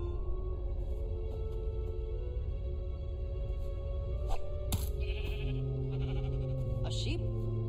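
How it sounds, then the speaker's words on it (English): Sheep bleating in the video game Minecraft Story Mode, a few short bleats over a steady hum of game music and ambience, with a tonal chime rising toward the end. "A sheep?"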